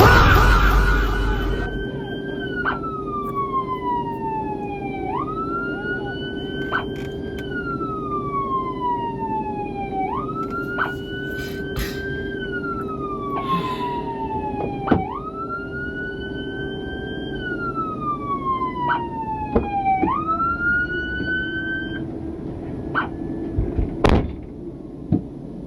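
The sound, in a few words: police car siren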